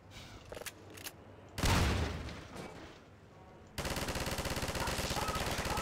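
Automated turret machine-gun fire in Half-Life 2: scattered shots and a heavy impact burst, then a loud, rapid, even stream of fire that carries on steadily to the end.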